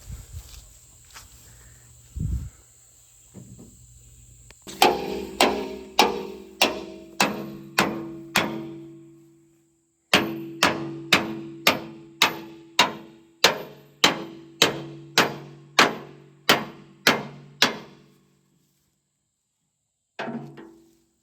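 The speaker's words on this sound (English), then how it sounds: "Need a bigger hammer." Repeated hammer blows on an International tractor during maintenance, about a dozen sharp metallic strikes in two steady bursts with a pause between, close and loud, ending with one more lone hit.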